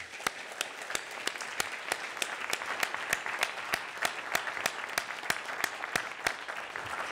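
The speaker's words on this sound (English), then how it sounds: "Let's give them all a round of applause" Round of applause from a conference plenary audience, with a few distinct claps standing out at a regular pace over a soft, steady bed of clapping from the crowd.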